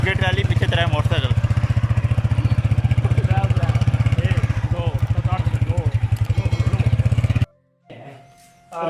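A motorcycle engine runs close by with a loud, rapid, thumping idle. Someone talks over it, and the engine cuts off near the end, leaving quiet background sound.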